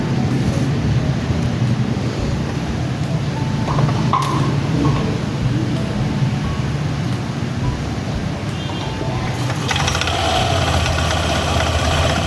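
A Yamaha Aerox 155 scooter with a freshly cleaned CVT and a new belt idles, producing a steady, loud mid-range engine drone with some wind rumble that continues unbroken throughout.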